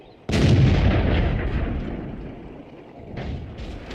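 A tank cannon fires once in World of Tanks, a sudden heavy boom that rolls off into a long, fading rumble, followed by lighter mechanical clatter toward the end.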